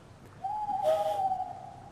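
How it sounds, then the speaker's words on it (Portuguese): An owl gives a single steady, tonal hoot lasting about a second. It sounds clear and fairly close against a quiet background. "Uma coruja!"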